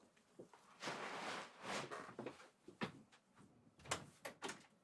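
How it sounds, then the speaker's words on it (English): An indoor door being pushed shut, a run of muffled rustling thuds and a soft closing knock, close by with no talking. "let me just shut this door."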